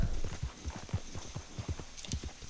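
A horse's hooves clip-clop at a steady walking rhythm in the video game Red Dead Redemption 2, close and clear, with a low hum in the background.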